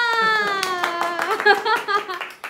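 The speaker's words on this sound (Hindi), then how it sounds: "तालियां।" Clapping from a gathered group at an event in Assam, scattered hand claps heard alongside a sustained tonal voice or music in the foreground.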